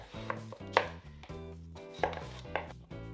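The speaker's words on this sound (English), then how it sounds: "I'm going to go ahead and take one of the halves and cut it into quarters." A knife cuts a watermelon half into quarters with a few firm, separate thunks against a board, each followed by a short pause, close and clear with no talking.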